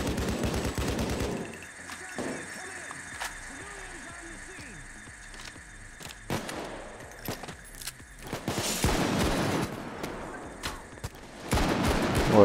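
Bursts of gunfire during a jewellery store heist in Payday 2, with sharp shots clustered at the start and again in the latter half, mixed with game sounds while a voice talks over it.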